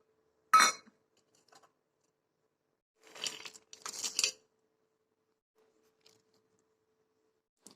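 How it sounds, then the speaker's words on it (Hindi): A few sharp clinks and scrapes of a utensil against a bowl as dry fruits are stirred into melted chocolate, brief bursts separated by silence, close and fairly faint. "अब हम मेल्टेड चॉकलेट के अंदर ड्राई फ्रूट ऐड कर देंगे।"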